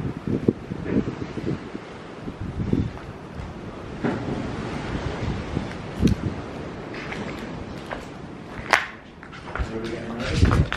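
Wind blowing outdoors at night on the grounds of an old asylum, a steady rushing buffet against the microphone with gusty swells throughout, loud and continuous beneath intermittent talking.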